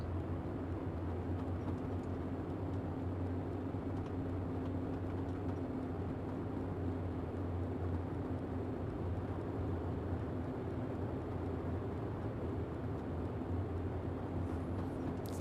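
Boeing 247D propeller engines droning steadily after throttling back in Microsoft Flight Simulator, a constant low hum with no voices over it.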